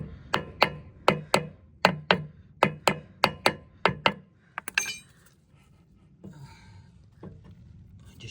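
A hammer taps a bearing into place on a Vaderstad Challenger, about a dozen sharp metallic knocks in an even rhythm, close and loud, followed by a few light clinks and quieter handling noise.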